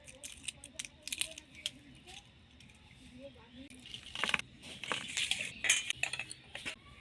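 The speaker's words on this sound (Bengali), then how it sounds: "এইভাবে আমি সবগুলো ছাড়িয়ে নেব।" Shells are peeled off boiled eggs by hand, giving small crackles and clicks in irregular bursts that grow busier toward the end, with occasional clinks of a dish nearby.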